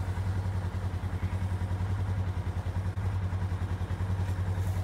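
A motorized oatmobile feeder system runs along its track, giving a steady low mechanical hum with a fast rhythmic clatter from the gears, close and continuous without a break.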